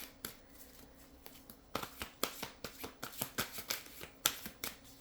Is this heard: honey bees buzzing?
no